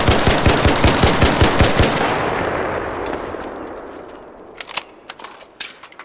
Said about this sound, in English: we're going to shoot right here and see how it climbs